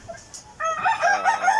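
A rooster on a small backyard farm lets out a loud, close crow that rises after a faint cluck or two in the opening moments.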